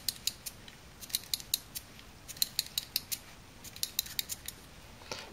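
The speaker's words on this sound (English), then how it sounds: "this thing actually has a traditional crank knob, which you rotate forward" The crank knob on a 1987 motorized G.I. Joe action pack is turned, giving a quiet run of small plastic clicks and ratcheting ticks in uneven clusters, close to the listener and with no speech.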